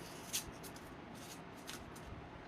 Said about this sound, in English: here goes me removing the paper.